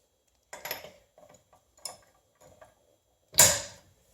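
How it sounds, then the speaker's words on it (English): A big breaker bar loosening car wheel lug nuts: a few sharp metallic clicks and creaks spaced over several seconds, ending in one louder, longer crack as a nut breaks free, close and without talk. "I'm going to take a big breaker bar here"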